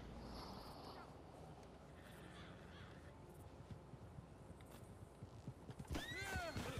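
Hooves clip-clop along over a busy background in the video game Red Dead Redemption 2 Online, then a horse whinnies loudly near the end.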